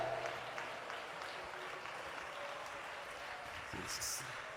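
A church congregation clapping during a Malayalam worship service, a faint, steady wash of hands that continues evenly under a quiet, reverberant room.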